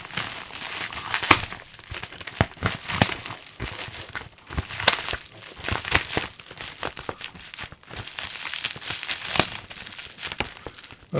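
Scissors cut open a mail package, giving irregular crinkling and snipping bursts of plastic and packaging, close by and uneven in rhythm, with no talking.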